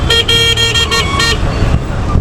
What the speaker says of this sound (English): Okay, it's a scooty horn, but a bit slightly better.